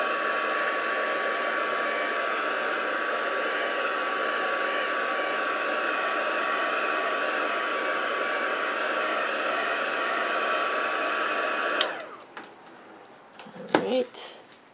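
A heat tool on its first setting blows steadily for about twelve seconds while drying ink on a handmade card, then cuts off, leaving a few quiet handling clicks and rustles.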